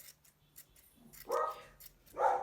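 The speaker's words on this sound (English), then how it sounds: "That's my dog in the background." A dog barks twice in the background, each bark a short mid-range burst over quieter ticking and snipping, with a pause between them.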